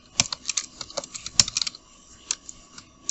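Someone types quickly on a computer keyboard, sharp uneven key clicks in short bursts with a few brief pauses, close and clear in a quiet room.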